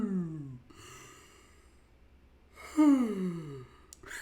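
A person yawning, with two long drawn-out breathy yawns separated by a quiet pause, the second one louder and stronger, heard up close with no speech.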